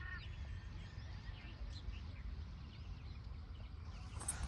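Ducks and other birds on a pond quack and call over a steady, noisy outdoor background, with occasional higher calls breaking through and no clear talk.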